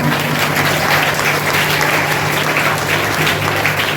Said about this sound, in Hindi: सभी उनका ताली बजाकर अभिवादन करेंगे, उनका सम्मान करेंगे।